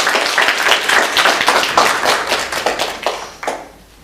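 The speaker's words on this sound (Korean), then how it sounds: "다 같이 우리 세 분 박수로 축하하도록 하겠습니다." A church congregation applauding at a Sunday worship service to celebrate members' birthdays, a dense burst of many hands clapping that holds steady, then thins and fades out near the end.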